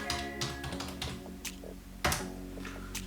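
Quick bursts of key taps on a computer keyboard while a web address goes into a browser, the clicks close and crisp over a faint electronic hum, with a brief pause before more typing.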